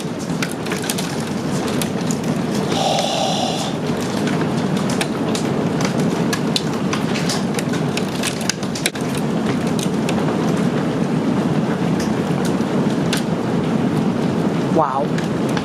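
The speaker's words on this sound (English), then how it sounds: "Can you hear that hail?" Hail and heavy rain pound down during a severe thunderstorm in a dense, loud, continuous roar that hits cars nearby. Brief clatters sound through it, and a rumble of thunder comes near the end.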